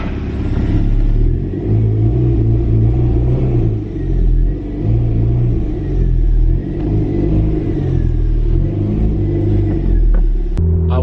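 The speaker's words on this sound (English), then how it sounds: "we have to let the car warm up first" A turbocharged Toyota MR2 with raised boost idles and revs in a driveway while warming up, a steady loud rumble swelling in repeated blips, close to the microphone.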